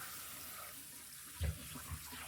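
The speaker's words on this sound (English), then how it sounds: "But now I do like to rinse my sauerkraut" Tap water runs softly as sauerkraut is rinsed in a kitchen sink, a faint steady wash with a couple of brief low splashes near the end.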